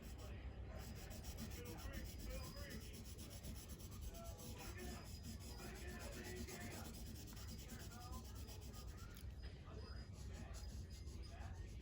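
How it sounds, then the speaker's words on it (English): Pencil graphite shading across paper, a quiet, continuous scratchy rubbing in steady back-and-forth strokes, with faint background voices underneath. "you're gonna have a lot more lead or graphite"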